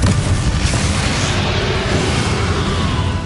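Confringo explosion spell in the Hogwarts Legacy video game: a dense, loud, continuous roaring boom with heavy low rumble, sustained throughout without pause.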